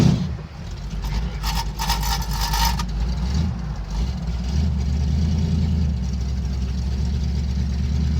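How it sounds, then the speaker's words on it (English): A car engine idles with its exhaust cutouts open, a low, steady, throaty rumble with a faint rattle, near and constant, and a short higher whine early on. "I have the exhaust cutouts open right now"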